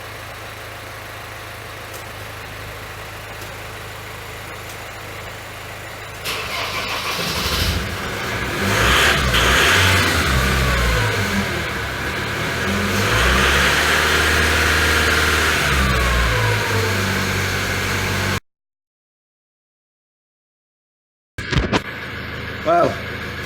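A car engine, after a jump start, cranks and catches, then revs up and down in repeated surges before cutting off abruptly; a short rustle and handling noise follow.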